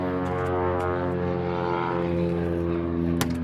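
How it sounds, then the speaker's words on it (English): Propeller airplane passing overhead near a boat and trailer, a loud steady droning engine hum with strong tonal harmonics that holds throughout, with no talk. "That plane is loud."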